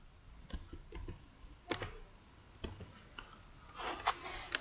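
Keys tapped on a computer keyboard while entering a search in the Windows Start menu, a few scattered clicks then a quicker burst near the end, close and fairly quiet with no voice.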